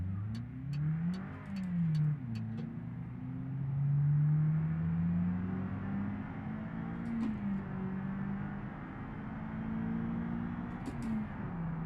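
In BeamNG.drive, a Honda Civic Type-R's engine revs and accelerates, its pitch sweeping up and down repeatedly across gear changes. Close and clear, with light ticking sounds and no talk.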